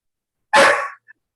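A single sharp dog bark, loud and close, followed by a tiny faint yip-like trailing sound, then silence.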